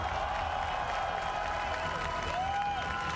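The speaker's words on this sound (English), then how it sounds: "For one last time, please, a round of applause for your champions!" An esports event audience applauds its champions in a steady wash of clapping and crowd noise, with a voice carrying faintly through it.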